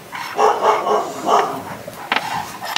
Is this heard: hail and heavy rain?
no